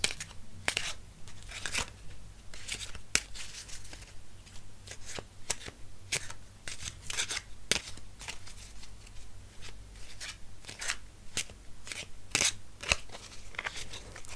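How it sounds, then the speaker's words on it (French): A deck of cards is shuffled repeatedly in a quiet room, with crisp riffling bursts and soft flicks recurring every second or so, close and gentle, in a game shop setting. "On va battre les cartes."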